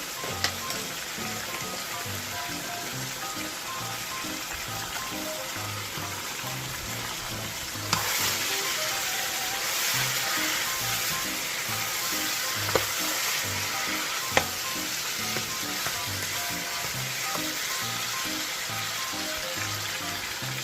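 Chicken pieces fry in a pan with curry powder for a Filipino-style chicken curry, giving a steady close sizzle and crackle with occasional stirring clicks and no talk.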